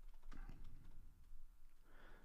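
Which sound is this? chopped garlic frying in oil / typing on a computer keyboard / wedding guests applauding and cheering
typing on a computer keyboard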